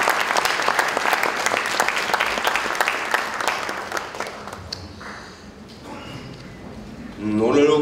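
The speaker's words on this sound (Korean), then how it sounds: "환영합니다. 박수를 보내주십시오." An audience of Democratic Party lawmakers at a party workshop applauds in a loud, dense burst that thins out and fades, with voices speaking as the clapping ends.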